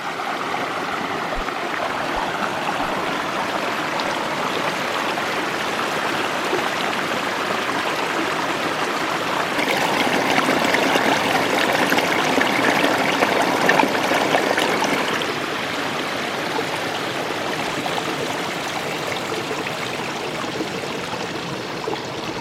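A small stream flows into a lake in the Boundary Waters wilderness, a steady, close babbling rush that swells louder through the middle and then settles back, with no voices.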